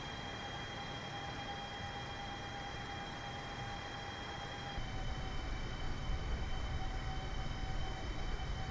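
Air Force One jet climbing after takeoff in Microsoft Flight Simulator, a steady engine drone that grows louder and rougher partway through, with no voices.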